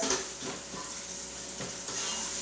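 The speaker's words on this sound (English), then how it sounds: "And I'm going to spray it off real quick." A steady hissing spray of water rinses fresh farm produce in a strainer for a couple of seconds, close by and fairly loud, with faint clinks beneath it.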